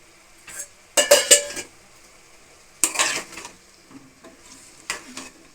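Eggplant curry with cumin gets stirred in a pan, a few separate bursts of metal spoon scraping and clinking against the pan with quiet pauses between them.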